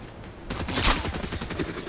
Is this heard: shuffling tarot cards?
no